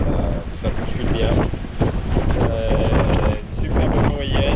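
Strong 20-knot wind roars across a sailboat crossing the Atlantic, with rushing water and surging gusts filling the whole stretch and a voice partly heard beneath it.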